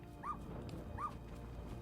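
A dog in the video game Little Misfortune gives two short whimpering yips about a second apart, thin and plaintive over a low rumbling game backdrop.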